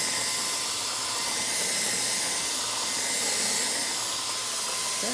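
Steady, loud hiss of a Wagner Control Painter paint sprayer spraying Valspar paint, running continuously, a broad airy spray noise that holds even for several seconds.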